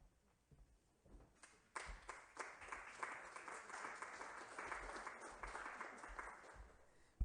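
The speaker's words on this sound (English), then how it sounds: "That's an early applause." Audience applause at an international round-table conference opening, starting with a few scattered claps and swelling into steady, moderately distant clapping that holds to the end.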